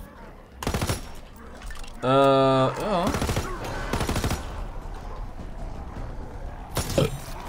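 Gunfire in Call of Duty WWII Zombies, with several loud bursts of shots and some sustained weapon noise among game effects, while someone briefly speaks German over the action.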